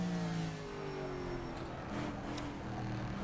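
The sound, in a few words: AC Cobra 427 engine downshifting, rFactor 2 video game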